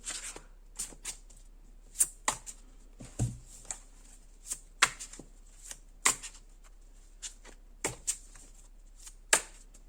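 Tarot cards are shuffled by hand in a quiet room, giving a series of brisk riffling bursts at irregular intervals.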